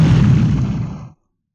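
Loud booming explosion sound effect in an audiobook narration, a dense roaring blast that holds for about a second and then cuts off abruptly into silence.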